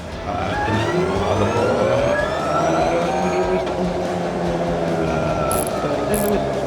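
A Polaris Ranger XP Kinetic electric UTV accelerates on a straight, its electric drive producing a smooth whine that rises steadily in pitch over a constant rolling rumble.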